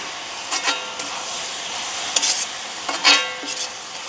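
Salted vegetables sizzle in a pan over a village cooking fire while a utensil stirs and scrapes them in a few quick bursts, with a steady frying hiss underneath.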